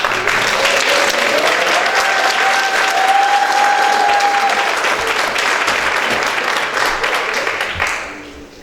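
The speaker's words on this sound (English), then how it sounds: "And the people clap." A church congregation breaks into loud, sustained applause that fills the room for several seconds before tapering off.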